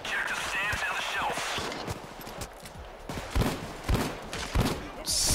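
Rapid shotgun blasts from the Judge in the shooter game Payday 2, several loud cracks in quick succession amid in-game noise and chatter.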